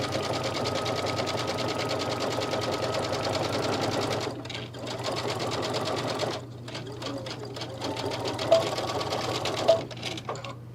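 Sewing machine stitching a seam on a clutch bag, a fast steady mechanical whir that stops and restarts a few times, close and clear with no talk.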